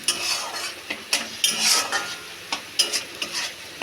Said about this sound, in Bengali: দিয়ে ভালো করে নাড়বো যাতে না মশলাটা নিচে লেগে যায়।